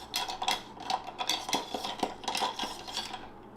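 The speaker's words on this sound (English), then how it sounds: "You do want to stir this drink and get it cool." Ice clinks and rattles against glass as a bar spoon stirs a Manhattan cocktail, a close, steady run of bright clattering taps alone.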